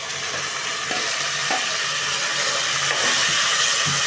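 Ginger, garlic, mint and coriander paste fries loudly over browned onions, a dense close hiss and sizzle with bursts of spattering and light stirring throughout.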